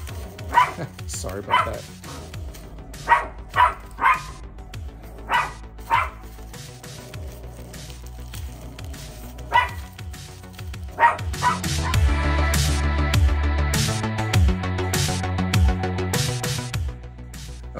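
A pet dog barks in sharp bursts and yips, with a few whimpers, loud and close, during an unboxing of a Transformers Masterpiece MPM-14 Bonecrusher figure; a person talks between the barks.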